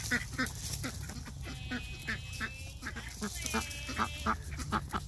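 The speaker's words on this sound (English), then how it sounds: "Hey, ducklings!" Ducklings and ducks quacking near a home at breakfast time: a steady run of short, fairly loud calls repeating in quick rhythm over a constant background hum.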